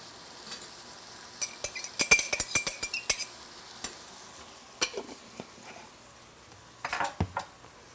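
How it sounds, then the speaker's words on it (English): Kale, about four cups, being tossed with a mustardy mustard-and-lemon vinaigrette, giving scattered soft rustling and wet clattering bursts at close range, with light clinks of a bowl or utensils and no talking. "Toss it around so that we coat the kale with the vinaigrette."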